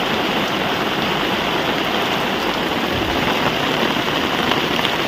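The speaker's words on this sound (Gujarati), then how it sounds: "આવો કંઈક વરસાદ આવે છે" Steady rain falls outdoors behind a rural house, a dense, even hiss of drops at fairly high level that continues without pause.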